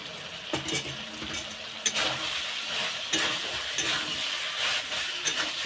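Tomato fries with spices in a pan for a thin mutton curry, giving a soft steady sizzle broken by occasional spoon scrapes and taps against the pan.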